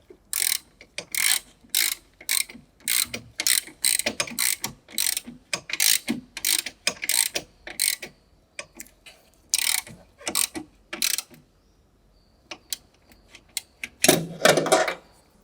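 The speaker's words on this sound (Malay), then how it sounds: "Gunakan extension 10 inci, ratchet dan deep socket saiz 13." A ratchet wrench fitted with a 10-inch extension and 13 mm deep socket clicks in rapid bursts of pawl ratcheting, close and crisp with short pauses between strokes, while working on the brake master cylinder of a Proton Saga.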